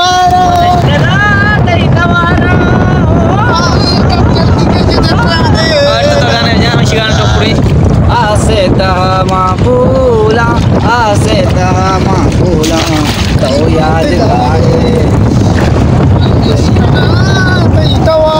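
A fishing boat engine drones loudly at sea under steady wind buffeting, while voices talk and call out over the motor throughout.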